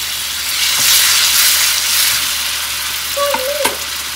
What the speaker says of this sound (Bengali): ওই জন্য এখানে তেলে কালো জিরে ফোড়ন দিয়েছি।